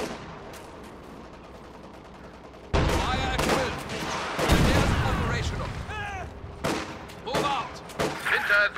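Gunfire in the World War II strategy game Company of Heroes 2, with dense crackling volleys and machine-gun bursts that grow louder partway through. Soldiers' voices call out over the battle.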